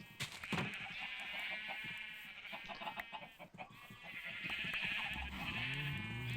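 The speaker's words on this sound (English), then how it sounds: "Got cows and sheep and chickens." Sheep bleating in Minecraft on a farm with cows and chickens, a few bleats mixed with other animal calls over steady game ambience.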